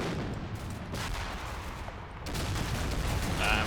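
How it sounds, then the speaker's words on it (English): 30mm cannon fire from an armored vehicle in a war video game, a dense sustained rattle of rapid booming shots that swells louder toward the end, with no talking over it. "that 30mm cannon fire there."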